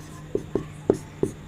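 A teacher writes on a board during a chemistry lesson, producing five short sharp taps of the marker or chalk, close and distinct over a low room hum.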